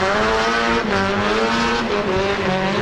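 A drift car at a D1NZ qualifying event slides through a right-hand teardrop corner, its engine roaring loud and steady with continuous tire squeal throughout.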